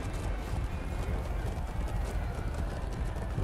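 Horse hooves in the medieval combat video game Chivalry 2, a loud, steady, rapid drumming of galloping steps that continues without a break, close and thick with game noise.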